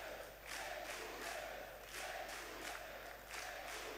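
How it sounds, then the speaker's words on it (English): A live event audience at the StarCraft II: Legacy of the Void reveal applauds and cheers in rolling waves, a fairly distant, washy crowd roar that swells and eases several times. "give him a huge round of applause"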